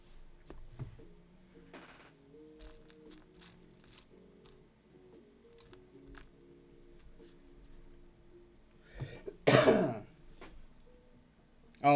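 A person getting over a cold gives one loud, short cough or throat clearing near the end, after a long quiet stretch with faint background tones and clicks.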